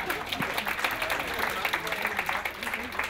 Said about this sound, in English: Can you give them both a round of applause?